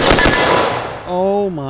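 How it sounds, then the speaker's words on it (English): Rapid rifle shots fired during a hog hunt ring out loud and close in a quick burst at the start, then a voice speaks once the firing stops. "It is so flat shooting."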